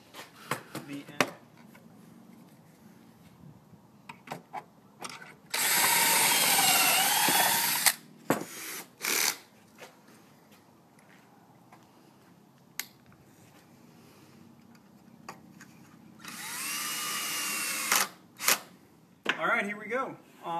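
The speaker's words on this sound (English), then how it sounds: "I'm actually going to put one pocket hole screw on the end" A power drill drives pocket hole screws into a wooden coffee table, two sustained high whirring bursts of a few seconds each, separated by clicks, knocks and handling taps, with a voice talking at times.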